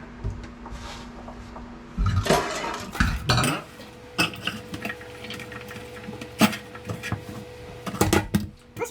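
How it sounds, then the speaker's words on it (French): Diced red pepper is tipped and scraped into a saucepan for red pepper soup, bringing clattering metal knocks, scraping, and sporadic clinks of utensils against the pan, close and irregular. "Et on met le tout dans la casserole."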